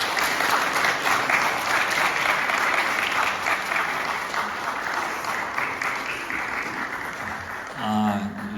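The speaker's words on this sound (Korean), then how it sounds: "목사님 나오실 때 환영의 마음을 담아서 박수로 맞아주시기 바랍니다." Church congregation at a Sunday service applauding a guest pastor, loud, dense clapping that runs steadily and tapers slightly toward the end, where a voice briefly cuts in.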